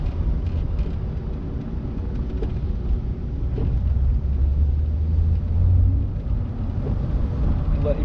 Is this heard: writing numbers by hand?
no